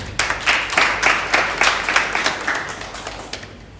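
Audience clapping at an award ceremony for start-up laureates in Bissau, a brief burst of applause with individual claps audible, fading out after a few seconds, fairly close and without speech.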